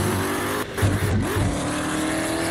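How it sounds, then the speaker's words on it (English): A Ford GT races in Assetto Corsa, its engine note loud and near, dipping on a lift then climbing again through rising revs, with a faint tire squeal. "Having a lot of fun right here with the Ford GT."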